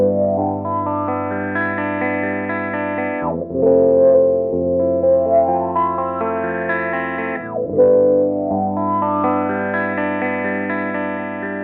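An effected instrument runs through a Beetronics Zzombee Filtremulator pedal in ramp mode, set to a long ramp up and a shorter ramp down. Sustained harmonic tones sweep upward slowly, then drop back quickly, repeating in three cycles without talk.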